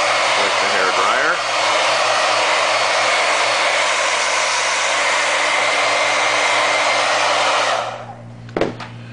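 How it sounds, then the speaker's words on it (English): A hair dryer blows close by to dry paint on a cosplay mask, a loud, steady whooshing roar that runs for about eight seconds before cutting off, followed by a few handling clunks. "with the hair dryer."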